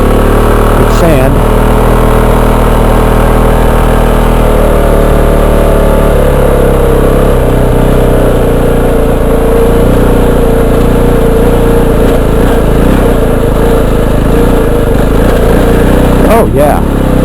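A Kove 450 Rally adventure motorcycle fitted with Tusk D-Sport tyres and a 51-tooth sprocket rides through a sand pit, its single-cylinder engine droning loudly and steadily with brief revs, dominated by heavy wind buffeting close to the mic.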